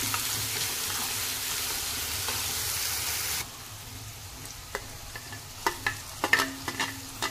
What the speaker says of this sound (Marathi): कांदा आपल्याला ट्रान्सपरंट होईपर्यंत परतून घ्यायचा आहे।